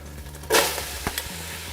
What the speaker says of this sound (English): In that same hot Dutch oven, we're adding in our onion, our garlic, and our celery.